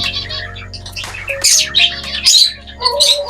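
Three young bird chicks just taken from the nest give loud, close squawking and chirping calls in repeated bursts that overlap one another, with no talking.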